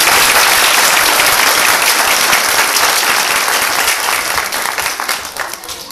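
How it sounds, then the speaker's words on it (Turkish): A school audience of parents applauding at a children's reading celebration: loud, close, continuous clapping from many hands that holds steady and then thins and fades toward the end. "Onun için alkışlıyorum."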